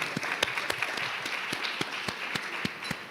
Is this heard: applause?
yes